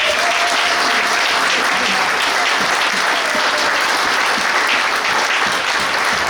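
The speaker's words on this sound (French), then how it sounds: "Est-ce qu'on peut acclamer le Seigneur?" A church congregation applauds and cheers for the Lord, dense steady clapping that stays loud and continuous throughout.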